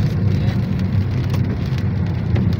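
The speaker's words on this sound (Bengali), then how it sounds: "বৃষ্টি পড়লো তো।" Steady rain falls at night in Mecca, Saudi Arabia, heard from a car as a continuous close hiss with pattering drops over a low rumble.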